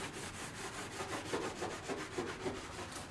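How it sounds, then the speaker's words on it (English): A scuff pad scrubs a Ford Mustang part coated in degreaser, a steady close rubbing hiss with quick rhythmic back-and-forth strokes, continuous and moderately quiet with no speech. "He's hitting it with a degreaser and a scuff pad"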